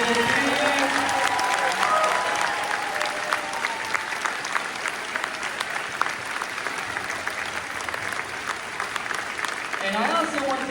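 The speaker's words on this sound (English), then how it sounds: "Can we give one more big round of applause to all of our students for all their hard work this year?" Sustained audience applause for school band students at a summer band concert, a steady dense wash of clapping lasting several seconds, with a few voices near the end.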